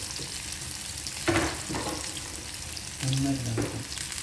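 Onion, garlic and ginger frying in a pan while being stirred, with a steady sizzle and a few scraping stir strokes standing out over it, close and fairly quiet, no talk.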